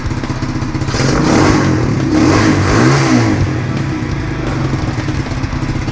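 An XR dirt bike engine revs loudly and steadily, rising and falling in pitch with a rough clattering exhaust, close by and alone.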